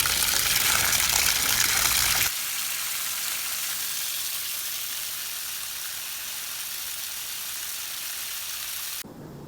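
Garden water running out for irrigation near elderberry bushes, a steady loud gushing stream that drops to a gentler, constant flow partway through and then cuts lower again at the end.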